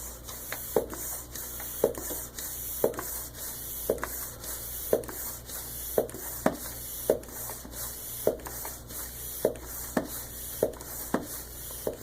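Hand or foot pump pushing air into a motorcycle front tire during a Z600 assembly, a steady series of sharp, evenly spaced hissing strokes roughly every half second over a constant background hum, close by with no talking.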